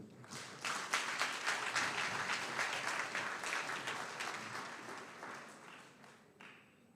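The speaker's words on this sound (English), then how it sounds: "Can we give another round of applause for the DDG?" Applause from the audience at a college skills graduation ceremony, a dense, steady clapping from a crowd lasting several seconds before tapering off, with no talk over it.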